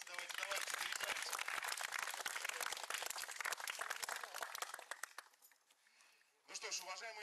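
A youth municipal forum audience applauds loudly and densely with rapid, overlapping claps that fade after several seconds, followed by brief quiet and a voice speaking.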